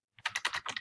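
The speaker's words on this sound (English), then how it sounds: "sorry for my typing" Quick keystrokes typed on a computer keyboard, about eight close, clattering taps in a steady burst after a brief silence.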